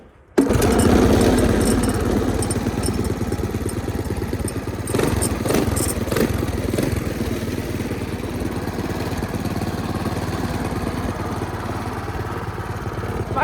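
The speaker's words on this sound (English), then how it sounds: "Go for one more quick ride." Motorized bike fitted with a built Predator 212 engine riding along, its engine droning loud and steady throughout with wind rush and a few brief rattling bumps mid-ride.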